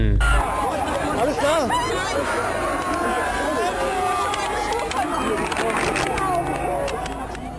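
Crowd commotion during a crowd crush: a dense, continuous babble of many voices, shouting and chatter pressing together at steady loudness from start to end, with no single voice standing out.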